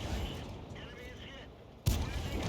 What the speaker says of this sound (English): it's also just damn fun firing this gun off rapidly at the enemy